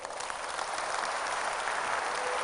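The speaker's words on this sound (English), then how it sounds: "Give God a mighty clap offering" A church congregation claps together in a sustained, dense burst of applause during a sermon, steady and fairly loud throughout with no pauses.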